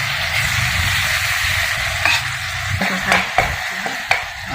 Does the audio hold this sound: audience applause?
no